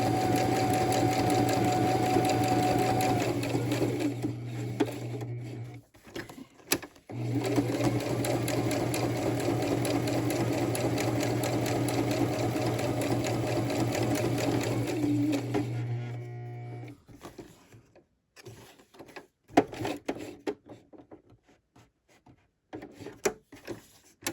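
A sewing machine stitches Halloween-themed fabric, a loud steady mechanical hum that runs continuously, briefly pauses, resumes, then gives way to scattered handling clicks near the end.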